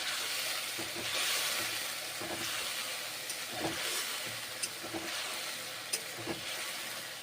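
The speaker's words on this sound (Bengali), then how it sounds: "মশলা কষে নিচ্ছি" Ground coriander, cumin, poppy seed and green chilli paste fried in a pan with a little water, giving a soft continuous sizzle with occasional scraping taps of stirring, moderately faint.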